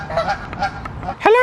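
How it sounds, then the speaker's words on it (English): Geese honk in short, nasal calls, several in quick succession close by, ending with a louder honk. "Canada geese can be a bit territorial."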